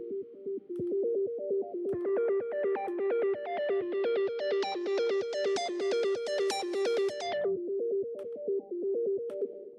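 A bright synth arpeggio from an FL Studio progressive house track pulses in steady rapid repeating notes, its tone opening up into a brighter, buzzier sweep midway before closing back down, alone and fairly quiet.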